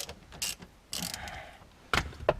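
Ratcheting clicks from loosening the main steering wheel screw on a Peugeot 407 come in a few short separate bursts with quiet gaps between them.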